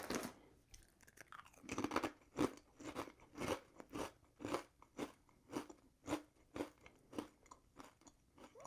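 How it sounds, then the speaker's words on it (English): Trader Joe's ghost pepper lattice-cut kettle-cooked potato chips crunched up close in a steady rhythm of sharp, loud bites and chews, roughly twenty crisp crunches with no talking. "The only thing that these are bringing are some super crunch."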